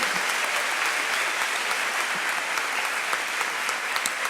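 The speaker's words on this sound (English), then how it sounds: "Can we give these people a round of applause?" A crowd at a high school honors ceremony applauds scholarship recipients, with dense, continuous clapping that stays loud and even throughout.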